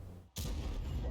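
An IS tank's cannon in a tank video game lets off one heavy, booming blast after a brief hush, its deep rumble lingering through the rest of the moment.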